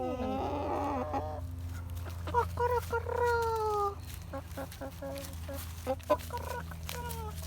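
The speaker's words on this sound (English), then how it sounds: "My chickens, guys, they're so cute and big." Hens cluck and chirp in short, varied calls over a steady low hum, with a person's voice mixed in at times.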